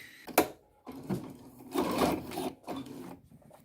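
A sewing machine bastes a zipper close to the edge of dress fabric in short, uneven bursts of stitching with brief pauses, fairly quiet and close.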